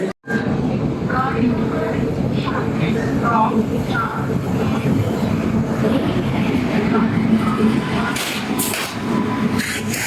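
A train pulls into a station with a continuous rumbling roll and clatter, plus scattered squeaks and clanks, under people talking nearby.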